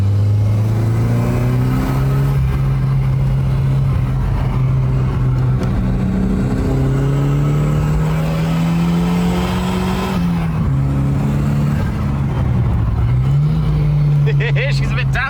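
A Volvo fitted with a standalone ECU drones steadily from inside the cabin as it is driven on a road, its engine pitch climbing gradually under acceleration with brief dips at gear changes, loud and continuous.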